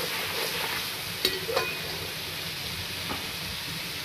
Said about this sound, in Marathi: 2 मिनिटं तेलात छानपैकी फ्राय करून घ्यायचा आहे